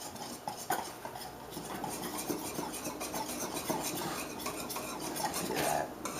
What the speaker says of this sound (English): So you got to keep whisking, keep whisking.